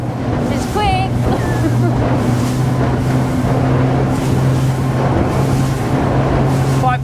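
A LOMAC 12.5GT speedboat running three Mercury V8 outboards totalling 900 hp at high revs, a loud sustained engine drone with strong wind and water rush, and a voice talking over it.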